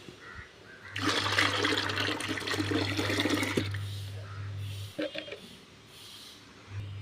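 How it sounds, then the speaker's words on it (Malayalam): Onion peel syrup and rice starch water poured into a bucket, a loud continuous gush of liquid lasting a few seconds before tapering into a few drips and splashes, close by. "അപ്പോൾ ഈ ഉള്ളിത്തോല് സിറപ്പ് നമ്മളൊരു ബക്കറ്റിലേക്ക് ഒഴിക്കുക"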